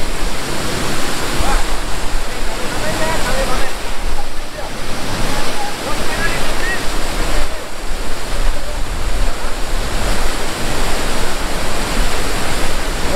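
Grand River South East waterfall in Mauritius roars as a continuous, loud wash of falling water, broad and unbroken throughout, with no voices rising above the rush.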